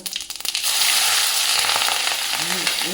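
Cumin seeds and onion hit hot oil in a pan for a stuffed bitter gourd dish, bursting into a loud, steady crackling sizzle after a few soft clinks, with faint popping near the end.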